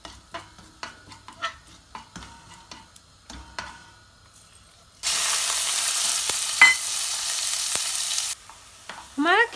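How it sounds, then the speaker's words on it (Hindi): Minced meat frying in a pan with coriander, cumin and black pepper, starting as scattered soft ticks and stirring, then a loud sustained sizzle for about three seconds before dropping back to light crackles and scraping. "कीमा हल्का सा भुन जाएगा।"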